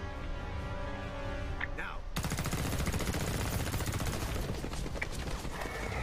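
Rapid machine-gun fire from Mortal Kombat X story mode breaks out suddenly and runs as a dense, continuous rattle with mechanical clatter. Quieter ambience and a voice come before it.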